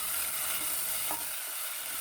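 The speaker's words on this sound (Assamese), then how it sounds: "আগতে সেইটো ভালকৈ ভাজি ল'ম" Ginger-garlic paste frying in a pan for chicken with pumpkin: a loud, close, continuous sizzle with a brief stirring scrape partway through, no talking.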